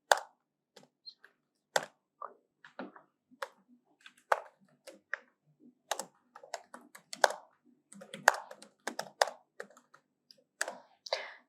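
Keys on a computer keyboard are tapped in quick irregular bursts, each click crisp and close against a quiet room, with short pauses between words.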